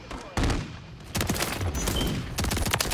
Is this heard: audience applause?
no